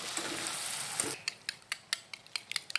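Eggs being whisked in a bowl, a run of quick, evenly spaced tapping clicks of the utensil against the side after a brief rushing sizzle-like noise, close and fairly quiet.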